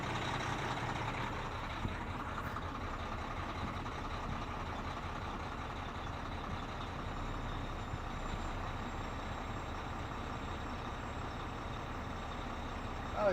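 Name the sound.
truck making noise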